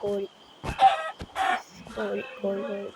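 Repeated synthetic clucking and crowing-like chicken calls from Minecraft, interspersed with brief clicks and effects, fairly close and clear.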